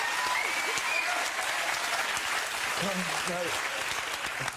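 Studio audience applause at a talk show, a loud sustained roar of clapping from a large crowd, with a voice speaking briefly underneath.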